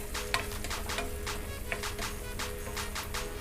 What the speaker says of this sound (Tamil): வெங்காயத்தை நல்லா ரோஸ்ட் பண்ணிக்கலாங்க